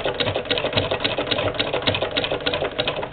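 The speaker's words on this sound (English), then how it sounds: "there is no problem with the machine sewing" An 1891 White VS IIb sewing machine stitches through two thick layers of knitting, with a fast, steady mechanical chatter that is close and runs without a break.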